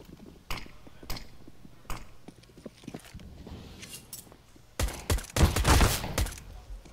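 Gunfire in a professional Counter-Strike: Global Offensive match on the Mirage map: sharp single shots at first, then a dense, louder volley of rapid fire, heard with faint footsteps and clatter in between.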